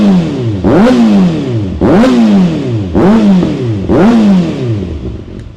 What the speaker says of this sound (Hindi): बट एक्रा की जो साउंड है ना भाई साहब,